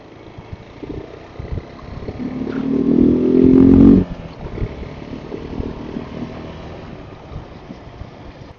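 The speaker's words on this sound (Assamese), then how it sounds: "স্কিড হৈ গৈছে বাইক" A motorcycle rides a snowy mountain road, its engine drone swelling to a loud, close peak that cuts off sharply as the bike skids, then settles into quieter rumble and wind buffeting.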